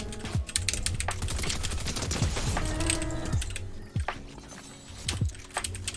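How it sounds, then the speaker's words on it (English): Gunfire from another player in a solo arena video game, rapid repeated shots crackling alongside clattering keyboard typing, with no talk. "Bro, who is shooting at me?"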